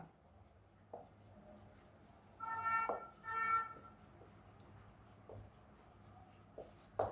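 Chalk or marker writing on a board during a maths lecture, with scattered taps and a couple of longer scratchy strokes, close and clear in a quiet room.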